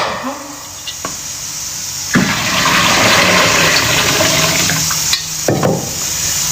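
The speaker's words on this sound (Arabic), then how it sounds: "قلت نغسل هذا الرز." Rice is rinsed under running water in a home kitchen: after a few knocks, a loud, close gush of water pours for about three seconds, stops briefly, then resumes.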